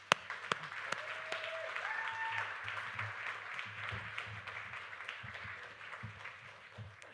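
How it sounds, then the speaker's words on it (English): Scattered, fairly light clapping from an audience at a live Ignite Liverpool evening event, uneven and thin with individual claps audible, a brief tone rising in the background and faint low murmurs underneath. "I really think you should all give yourself a round of applause for being here tonight."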